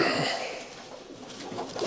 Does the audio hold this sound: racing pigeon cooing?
yes